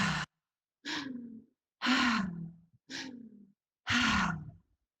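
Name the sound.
breathing out through the open mouth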